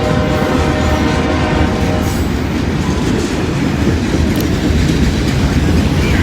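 A Conrail freight train hauling auto rack cars rolls past up close, a loud continuous rumble with steady rail clatter and a horn-like tone early on, alone without talk.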